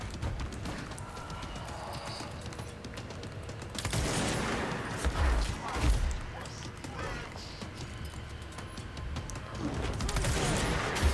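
Gunfire from the video game Control, mixed into a dense, busy game soundscape with a loud burst of shots near the middle and constant background action, with a voice talking over it.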